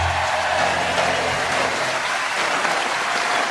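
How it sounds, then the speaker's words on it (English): Studio audience at a British radio comedy panel show recording breaks into sustained, loud applause, a dense even wash of clapping that carries on steadily without pause. "It's always a bit difficult when you start clapping without realising how long it's going to go on for"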